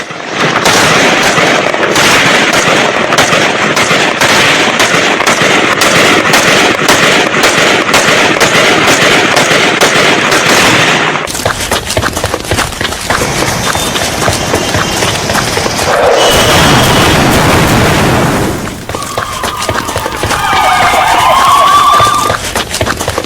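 Attack on a Pakistani police training camp, with an explosives-laden vehicle and grenades: a long, dense crackle of rapid gunfire and bursts, loud and continuous, then scattered shots and a later segment with sirens or whistling sounds.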